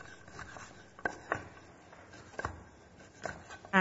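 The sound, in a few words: knife slicing chorizo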